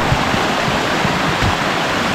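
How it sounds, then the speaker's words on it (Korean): Mountain stream on Suraksan rushing over rocks at a stepping-stone crossing in autumn, a steady, loud, close broadband wash of flowing water with no voices. "얘가 아마 마지막 건너는 개울일 거예요"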